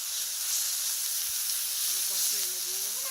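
A paste of ginger, onion and mustard sizzles in hot oil, a bright, steady frying hiss that fills the whole moment evenly, with a faint voice murmuring underneath toward the end.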